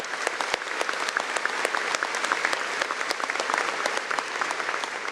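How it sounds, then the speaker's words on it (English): A university welcome audience claps for newly introduced directors in a steady, dense round of applause. The clapping is loud and close, with sharp individual claps standing out throughout. "Please welcome them with a round of applause."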